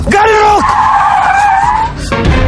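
A car skids as it brakes hard to a stop, with a loud, close tire squeal that holds steady for about two seconds before cutting off, followed by a brief rumble.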